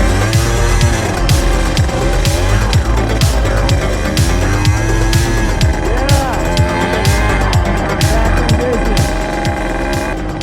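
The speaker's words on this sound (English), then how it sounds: "Somehow I was able to get it started. My bike came to life." An enduro motorcycle engine runs loudly during a race in Lai Chau, revving up and down in repeated bursts with other bikes and background noise close by, under a rider's voice.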